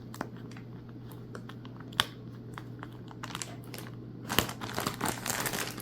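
Snips cut packing tape on a parcel of craft fabric, a quiet run of sharp clicks and snips, then a louder burst of crinkling packaging toward the end, all over a steady low hum.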